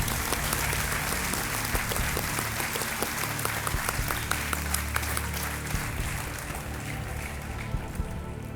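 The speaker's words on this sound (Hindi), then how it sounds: "तालियों के साथ हम आपका स्वागत करते हैं।" A studio audience on a quiz show applauds to welcome a guest, Durga Patel: dense, continuous clapping at moderate volume that runs unbroken, with a low steady hum underneath.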